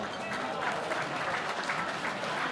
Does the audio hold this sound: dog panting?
no